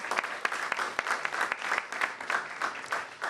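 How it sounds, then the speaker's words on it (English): An audience at a civic event on first-time voters applauds sponsors with brisk, evenly spread clapping that stays fairly loud throughout the short burst. "A big round of applause for them as well."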